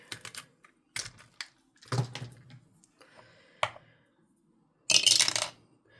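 A four-sided die is rattled and rolled on a hard surface, giving several sharp clicks and clatters spaced by pauses, ending in a longer burst of rattling with no talk.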